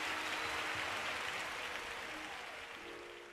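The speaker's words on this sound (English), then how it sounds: "Core, listen to that crowd cheer." A video game crowd cheering and applauding, a dense, continuous wash of clapping and roaring that fades slightly toward the end, with no voices on top.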